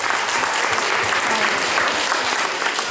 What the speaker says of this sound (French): On applaudit encore les finalistes